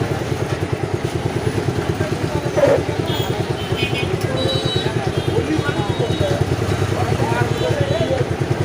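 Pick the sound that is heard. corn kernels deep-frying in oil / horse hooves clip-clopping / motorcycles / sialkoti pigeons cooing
motorcycles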